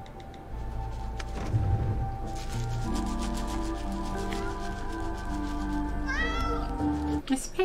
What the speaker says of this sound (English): that cat is cute